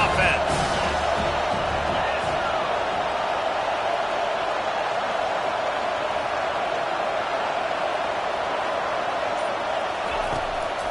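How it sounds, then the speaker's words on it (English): Crowd noise fills a football stadium during a game, a dense, steady roar at a distance that never lets up. "This crowd trying to make life miserable for this offense"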